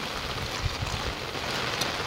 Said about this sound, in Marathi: आता सध्या बारीक बारीक पाऊस चालू आहे